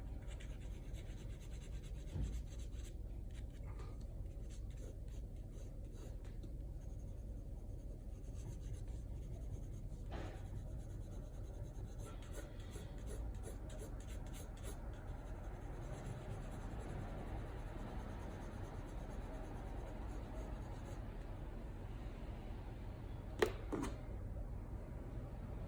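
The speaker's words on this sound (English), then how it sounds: "Just lightly dragging an eraser over it" An eraser dragged lightly over a 5B graphite pencil drawing of drapery on paper gives a soft, steady rubbing and scratching, close and quiet, continuing alone throughout.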